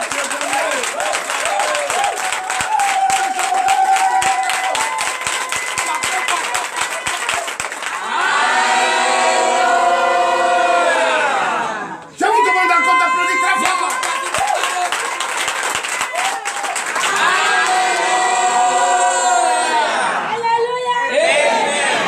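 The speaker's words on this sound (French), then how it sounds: "Donnez de vives acclamations." A church congregation at a night deliverance and prophecy service bursts into sustained applause and cheering, with whoops and crowd chatter. Loud, dense clapping rises, dips briefly midway, then surges again.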